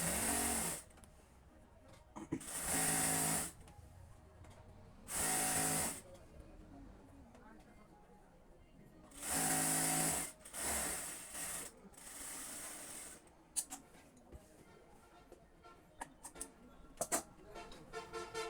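A sewing machine stitches a straight seam along a petticoat in several short bursts of running, each about a second long, separated by quieter pauses.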